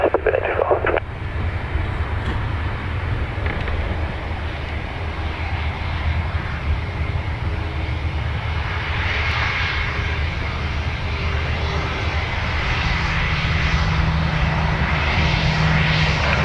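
A Ryanair jet landing at Dublin Airport, a steady loud engine roar that carries through the whole stretch, with a faint radio voice underneath.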